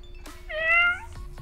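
A cat in the Minecraft video game gives a single clear, mid-length meow, close and distinct above a quiet background.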